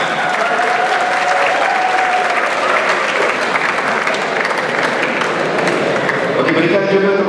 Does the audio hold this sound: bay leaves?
no